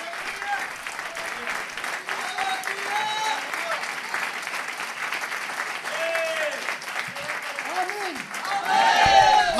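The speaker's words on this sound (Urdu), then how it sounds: "یسوع مسیح کے لیے زوردار تالیاں بجائیں گے" Loud, sustained applause from a church congregation fills the whole stretch, steady clapping that swells near the end, with a voice speaking over it and faint cheers rising at moments.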